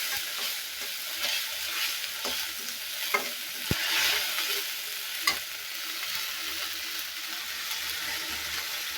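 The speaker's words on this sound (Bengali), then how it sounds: "তো এটা আমি একটু ভাজা ভাজা করে নিই।" Soft, steady sizzling of ginger paste with a little water frying in a pan, with occasional scrapes and taps of a spoon stirring against the metal.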